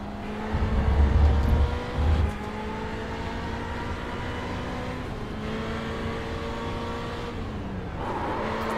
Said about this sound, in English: We'll just listen to the engine.